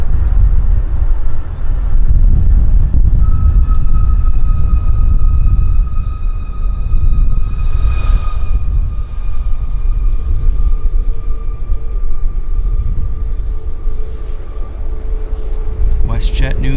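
WestJet airliner in new livery taxiing at Vancouver Airport, a loud steady engine rumble with sustained whining tones running throughout, close by and alone without any voices.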